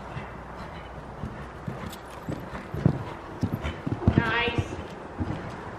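Horse hooves clip-clop across an arena during a riding lesson over jumps, a steady walking rhythm of close, distinct hoofbeats, with a brief whinny-like sound near the end and an instructor's voice speaking over them.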